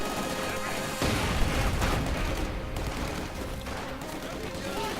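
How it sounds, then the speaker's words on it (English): A grenade tossed through a window by Soviet troops explodes inside a house in Company of Heroes, a dense boom and crackle of battle noise at 1 second that rolls on with scattered gunfire and a commentator's voice over it. "There might be a nice grenade through the window as a prize from the Soviet army, and there we go."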